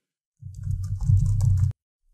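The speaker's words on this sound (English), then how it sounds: "and then you can type in your message" Rapid typing on a computer keyboard as a message is written, a dense run of close key clicks lasting over a second with no talking.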